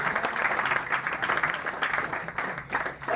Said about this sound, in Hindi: सम्मान से जोरदार तालियां